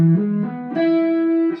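Distorted electric guitar plays a short, blurry, slippery lick, sliding between close neighbor tones and sustaining one bright note before a quick final slide, heard alone.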